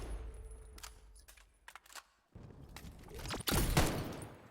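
Gunshots in the VR shooter Vail VR, a few sharp separate cracks with short gaps, then a louder cluster of shots near the end after a brief quiet moment.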